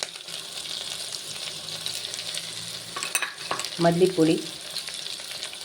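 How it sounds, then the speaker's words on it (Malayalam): Snail roast being stirred in a frying pan with pepper powder and spices, a steady soft sizzle with scraping stirs building near the end, while a person names an ingredient. "നല്ലതുപോലെ ഇളക്കിയെടുക്കാം."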